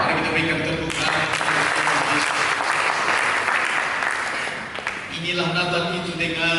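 A congregation bursts into loud, sustained clapping during a Christmas sermon, the dense applause swelling for several seconds before thinning out as a voice resumes near the end.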